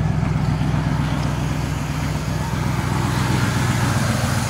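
A V8 engine in a 1958 Chevrolet half-ton big-window shortbed stepside pickup idles steadily, a continuous low rumble with an even throb, close and alone.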